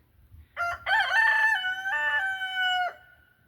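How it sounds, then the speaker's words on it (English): A rooster crows nearby, one long loud cock-a-doodle-doo rising and then trailing off, with faint low background noise before it. "The chickens are milling around."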